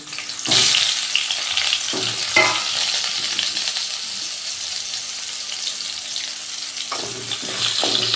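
Diced potatoes fry in hot oil with a steady, close sizzle that runs throughout, broken by several louder stirring scrapes near the start and again toward the end; no one speaks.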